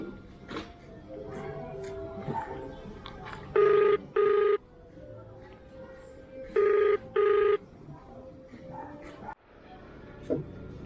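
An outgoing phone call rings back in two double-ring bursts, fairly loud against a noisy background with a dog whimpering and barking now and then.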